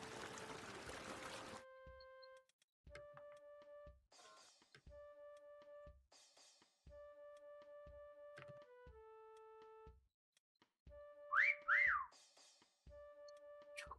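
A whistle sounds in a hide-and-seek game of Mecha Chameleon as a run of short, clear, repeated tones at a steady pitch, fairly faint and spaced apart, after an opening burst of noise.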